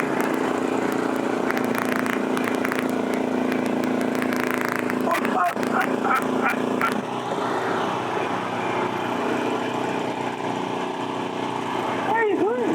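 Several mini skid steer engines rev and drone together outdoors during a tug of war contest, the steady loud engine noise running throughout while people talk and shout over it.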